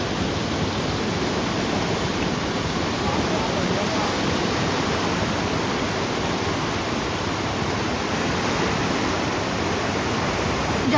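The Ganga at a river bend in Haridwar, swollen after cloudburst rain, churns through high rapids and waves in a steady, loud, unbroken rushing roar that fills the whole span with no voices.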